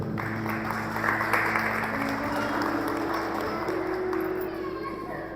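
A church congregation applauds steadily in a hall, a dense wash of clapping that holds for several seconds over a low steady hum, with faint voices underneath.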